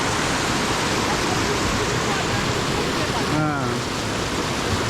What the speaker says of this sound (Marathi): तर हा आहे, तुम्ही बघितलं तर इकडचा सिक्रेट वॉटरफॉल.